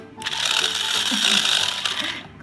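A small cake batter mixer spins steadily at close range, giving a loud, continuous whirring, rattling motor drone that starts abruptly and keeps going to the end.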